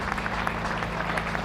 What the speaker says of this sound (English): All the members to our left are applauding him off